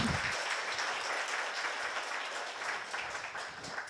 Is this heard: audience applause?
yes